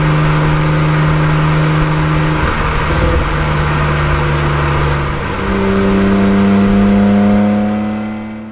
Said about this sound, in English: offers the best sounding exhaust for this car